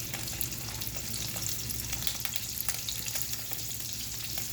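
Steady broadband sizzle of food searing in a preheated hot pan, a continuous crackling hiss with scattered pops, fairly close and alone without any talk.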